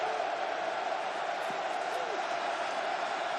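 A vast stadium crowd at an NFL Bears versus Rams divisional playoff game roars in a dense, unbroken wall of noise, steady and loud with no pauses.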